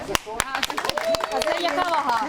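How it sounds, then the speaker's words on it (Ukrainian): Scattered claps from the audience at a fishing tournament award ceremony in Vinnytsia, a handful of sharp hand claps sounding under someone talking over them. "Оплески."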